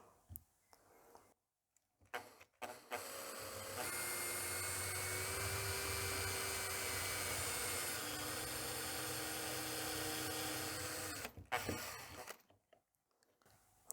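A power drill bores a hole into a small wooden block set on a protective scrap board, a steady loud whine lasting several seconds, with handling clicks before and after.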